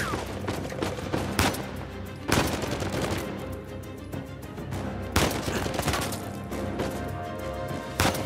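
Gunfire during Uncharted 4 combat: several loud, sharp gunshots spaced a second or two apart, with splintering impacts and a busy battle bed between them.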